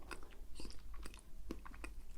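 A person mimics a cud-chewing hoofed animal during a close-up cranial nerve exam roleplay, with soft repeated wet jaw clicks and crunchy chewing sounds in an uneven rhythm, intimate and quiet with no talking.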